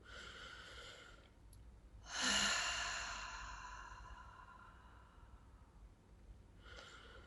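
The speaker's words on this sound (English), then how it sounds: "Let's take a deep breath." A single deep breath drawn in and slowly let out during a calming tapping exercise, soft and close, a breathy rush that swells then fades, with quiet pauses around it.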